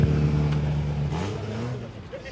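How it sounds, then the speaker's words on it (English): Race cars start up in the paddock at the Goodwood 78th Members Meeting, with a steady engine rumble and hum sitting under a man's speech. "Well, I can hear the cars starting up."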